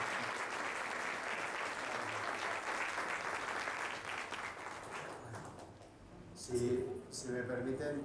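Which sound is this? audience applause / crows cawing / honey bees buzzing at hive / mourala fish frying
audience applause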